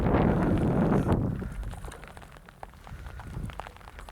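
Rain falls on American Horse Lake during a fishing outing, a dense close patter at first that thins to scattered drops and taps.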